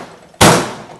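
A knife blade pressed down crushes a garlic clove on a cutting board with a single sharp, loud thud and crunch, close up, followed by a brief fading rustle.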